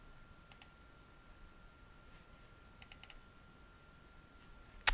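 A few soft computer mouse clicks during a file upload, sparse and quiet, in small clusters with a sharper click at the end, in a near-silent room.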